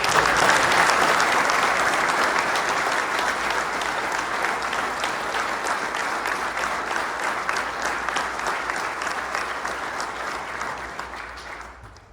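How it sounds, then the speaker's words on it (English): A crowd at a fire department hiring and promotions ceremony applauds, a full, sustained round of clapping that holds steady for about twelve seconds before tapering off. "how about another round of applause for all of us?"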